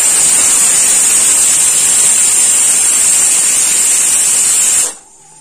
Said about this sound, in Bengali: প্রেসার কুকারে আরেকটা সিটি মেরে দিয়েছে